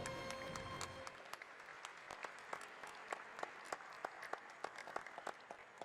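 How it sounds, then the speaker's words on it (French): Conference audience applause at the opening session of an alumni colloquium, many hands clapping in a dense, even patter heard at a distance in a large room, with a few sharper claps standing out. "On peut les applaudir."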